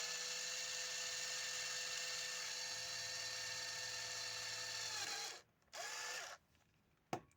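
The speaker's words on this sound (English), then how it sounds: "When you drill into soft PVC" A steady high-pitched power drill whines continuously while drilling soft PVC, then cuts off, starts briefly again, and stops with a final click.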